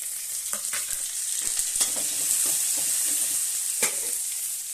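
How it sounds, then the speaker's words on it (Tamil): Ginger paste with mint and leaves frying in a pan gives a soft, steady sizzle, broken by scattered sharp taps and scrapes of stirring, close and moderately quiet, with no talking. "இஞ்சி பேஸ்ட் போட்டதுக்கப்புறம் இந்த புதினாலையும் மெஹந்தியும் போடுவேன்"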